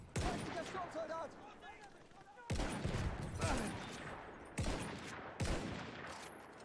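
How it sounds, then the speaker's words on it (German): Bursts of gunfire in a World War shooter game, several sharp loud volleys separated by short pauses, with voices shouting in German between and over the shots. "Ein Maschinengewehr!"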